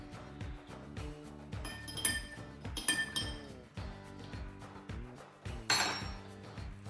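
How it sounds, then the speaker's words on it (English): A spoon stirs in a glass, clinking repeatedly against its sides in a brisk, uneven rhythm of bright ringing taps, close up and with no talk. "Then mix with the spoon."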